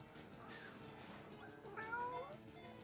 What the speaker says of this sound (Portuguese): Ixi, tem gato aqui, hein?